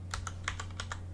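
Fingers type on a computer keyboard, a quick handful of close, light key clicks in an uneven rhythm over a low steady hum.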